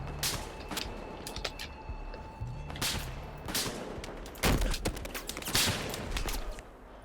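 Rapid bursts of gunfire crackle in clusters, sharp repeated shots with brief gaps, steady background hum beneath, from the video game Battlefield: Hardline.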